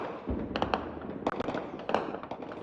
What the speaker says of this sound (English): Gunshots echo through Goma, one of the largest cities in the Democratic Republic of Congo